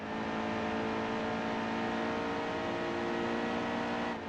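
A NASCAR stock car's engine, raced through the chicanes of the Charlotte Roval in NASCAR Heat 2 while drafting, roars loud and steady at full throttle for the whole stretch, with no voices over it.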